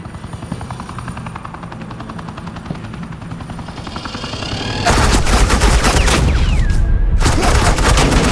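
Suppressing gunfire in Batman: The Enemy Within: a helicopter drone gives way to a loud, sustained hail of rapid automatic gunfire, near and continuous, with a short break before the shooting resumes.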